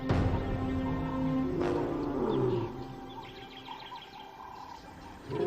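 Big cats roaring in the wild to signal their position: a low, drawn-out roar rises and fades over the first half, with faint bird chirps in the quieter background afterward.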